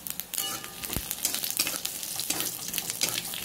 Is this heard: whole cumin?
yes